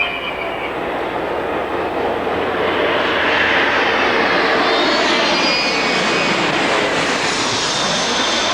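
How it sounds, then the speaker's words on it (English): A Canadair Challenger corporate jet at the 1989 Paris Air Show, a loud continuous engine roar that builds slightly with a high whine laid over the top, with no talk. "The Canadair Challenger, seen here, offers the widest cabin in the corporate jet fleet."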